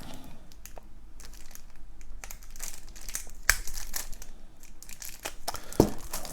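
Plastic wrapping on a Marvel Champions War Machine hero card pack crinkles and crackles as it is torn open, with irregular rustles and a couple of sharper snaps, close and fairly quiet.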